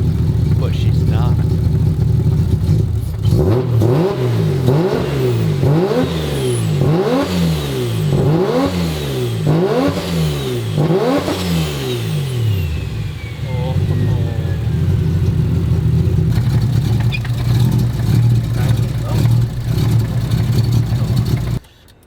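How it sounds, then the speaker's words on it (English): A Mazda three-rotor rotary engine fitted with a new turbo is revved hard in a rising and falling rhythm of repeated throttle blips, loud and close, then settles back to a steady rough idle. "What you hear is the 3-rotor running for the first time with absolutely zero vacuum leaks,"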